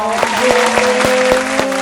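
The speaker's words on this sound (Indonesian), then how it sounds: "Kita kasih tepuk tangan dulu dong." A loud studio audience claps in a fast, even rhythm of sharp beats, close and alone, with a sustained tone running underneath.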